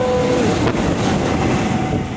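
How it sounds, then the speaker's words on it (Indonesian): Several trains rolling along an Indonesian railway line, heard as a loud, steady rumble of rail noise that keeps up throughout with no pause. "Walaupun sepi, tapi sekali melintas 3 kereta"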